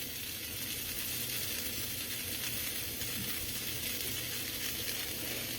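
A grilled three-cheese sandwich frying in a pan gives a steady, close, even sizzle of hot fat crackling continuously without pause.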